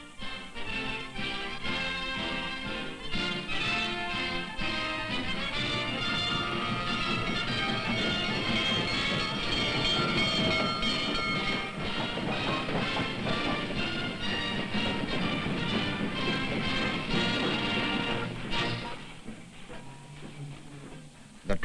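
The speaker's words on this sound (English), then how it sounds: "The train pulled in." A train pulls into a station with a dense, hissing rumble of wheels and machinery that stays loud for most of the stretch. The noise falls away sharply near the end, leaving a quieter low hum.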